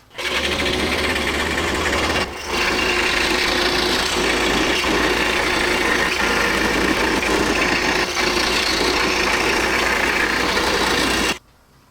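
Powered saw cutting a wooden plumb bob blank just outside traced lines, a loud continuous rasping buzz held for about eleven seconds with one brief dip, then stopping abruptly.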